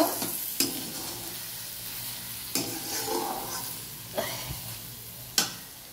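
Aloo posto, potato cooked with poppy seed, is stirred in a pan under a soft, steady sizzle, with a handful of sharp scraping strokes of the spoon against the pan spaced a second or two apart.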